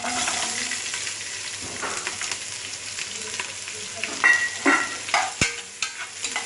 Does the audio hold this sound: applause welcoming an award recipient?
no